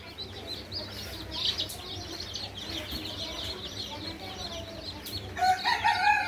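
Chickens in a brooding house cluck steadily and a rooster crows, with a louder burst of calls near the end over a constant low background hum.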